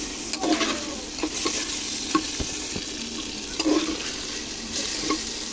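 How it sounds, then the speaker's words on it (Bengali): Spices and moong dal fry in a pan, with a constant close sizzle and repeated scraping stirs of a spoon against the metal at an irregular rhythm; no talking. "মশলাটা কষিয়ে নেবো এবং ডালটা কষিয়ে নেবো।"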